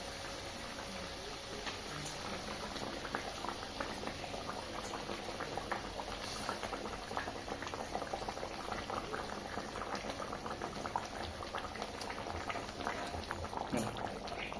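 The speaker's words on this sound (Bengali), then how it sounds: "ঝোল ফুটে গেছে, এবার একে একে মাছগুলোকে তুলে দেবো।" Steady low bubbling of catla fish kalia broth simmering in a pot, continuous and quiet, with no talking.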